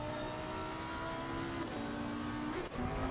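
A light blue Lamborghini Huracan Super Trofeo race car in a racing video game at Barcelona holds a steady, high engine drone, with a brief dip like a gear change near the end and no talking.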